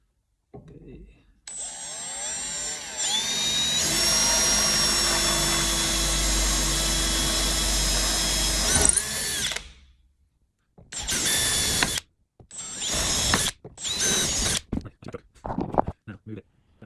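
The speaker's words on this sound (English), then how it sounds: "You can't see me drilling." A power drill drilling a wooden skateboard deck whirs continuously for several seconds, then runs in short bursts with pauses between, close and loud.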